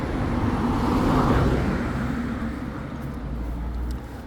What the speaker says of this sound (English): Sounds like there's a car coming. A proper, yeah, couple of cars coming.